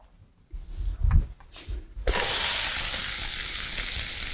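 Chopped onions drop into a hot pan for Tibetan spicy browned beef. A few soft handling knocks come first, then a sudden loud, steady sizzle fills the rest, close and unbroken.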